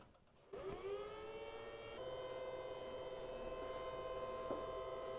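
PowerSmart 80V lawn mower battery sitting on its charging dock gives off a steady, tonal electronic whir with a faint hum underneath, constant and close, no voices.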